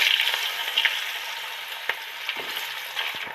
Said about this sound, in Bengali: আলুগুলো তো সুন্দর করে ভাজা হতে থাকছে